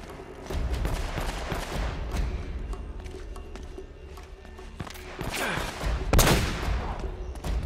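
Gunfire in the video game Uncharted: Drake's Fortune: a steady, loud stream of shots and bursts running through the whole stretch, with a sharp louder blast near the end.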